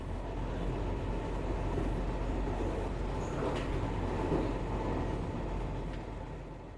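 A train rumbles past in a quiet Japanese suburb, a steady, continuous low roar that holds close and loud throughout before easing slightly at the end, with no talk.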